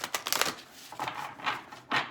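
Tarot cards being shuffled by hand in a quiet room, giving several short papery riffling bursts with brief pauses between them, moderately close and fairly soft.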